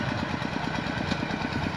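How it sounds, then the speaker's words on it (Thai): A small Kubota tractor engine plows a rice field, a steady close mid-pitched chugging drone with a quick even pulse running throughout at constant loudness. "ไถคูโบต้านะครับคันเล็กครับ"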